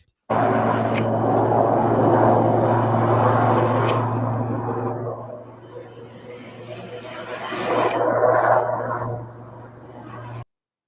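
A helicopter flies over Belfast with a steady low rotor drone and a broad engine roar, loud and close throughout, swelling again near the end as it passes overhead; no one speaks.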